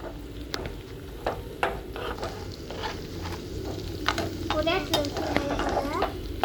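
Onions sautéing in a pan, with a soft continuous sizzle under repeated scraping strokes of a spoon and a few light metallic knocks against the pan, close and moderately loud.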